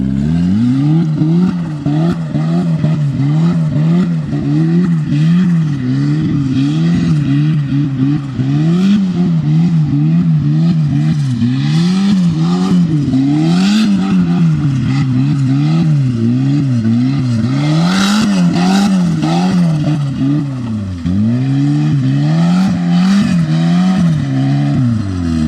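A turbocharged Mazda Miata accelerates hard across a field, its engine loud and close, revving up and dropping again in repeated waves as it shifts, with a steady raspy drone throughout.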